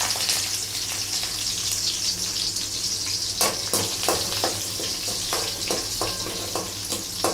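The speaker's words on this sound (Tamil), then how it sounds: "இது பொரிஞ்சதுக்கப்புறமா நம்ம தட்டி வச்ச பூண்டை போட்டுக்கலாம்." Crushed garlic fries in hot oil in a pan. A steady, loud sizzle carries throughout, with occasional sharper crackles and stirring scrapes up close and no voices.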